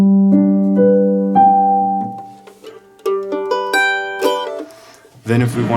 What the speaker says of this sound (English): So then on a mandolin that sounds like this.